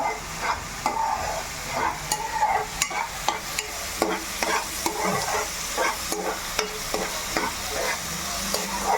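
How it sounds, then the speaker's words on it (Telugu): Onions sizzle in a hot pan while a spoon scrapes and stirs them, with steady frying crackle and sharp clicks of the utensil against the pan, close up and without talk. "ఇలా ఉల్లిపాయలు వెళ్తున్నట్టే మనం టమాటా ముక్కలు కూడా వేసేసుకోవాలండి"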